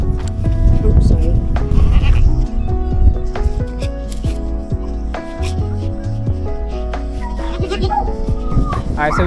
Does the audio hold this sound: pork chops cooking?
no